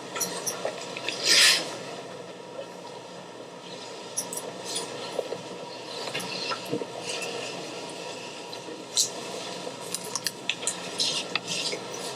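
Scissors snip through hair during a scissor-over-comb men's short haircut, quick light clicking cuts scattered close by in small clusters, with no voices.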